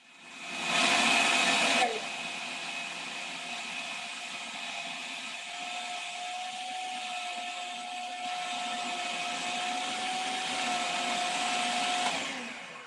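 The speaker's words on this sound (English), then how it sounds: "Then your blender, like the highest setting you have." A kitchen blender purees on its highest setting, whirring loudly and steadily for about eleven seconds, with no talk over it.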